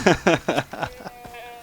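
A goat in the video game Far Cry 3 bleats about five times in quick succession, each cry short, wavering and nasal, with the last ones fading softer, and no talking over them.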